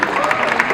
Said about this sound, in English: Now you have to clap for me also.